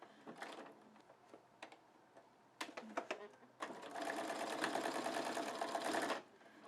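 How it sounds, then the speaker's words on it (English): Sewing machine stitching quilt strips for a floating bargello quilt: short bursts of needle motion at first, then a steady, fairly loud run of stitching for a couple of seconds before it stops. "I'm going to go back to the machine, and this time I'm going to sew from this side"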